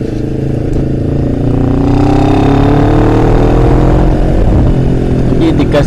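Honda CBR250RR sport motorcycle revving and pulling away, engine pitch rising steadily into a loud, close, sustained howl with someone talking over it.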